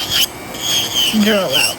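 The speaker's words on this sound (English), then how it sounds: "I'm gonna drill out." An electric nail drill whirs and grinds up close, its high whine sliding up and down in pitch for a couple of seconds.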